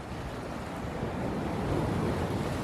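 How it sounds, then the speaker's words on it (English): Waves of the Great Southern Ocean break along the rocky Eyre Peninsula shore, where big boulders lie piled below the cliffs. The surf makes a steady, loud, continuous roar with wind buffeting the microphone, and no one speaks. "Well, I guess that is the Southern Ocean out there."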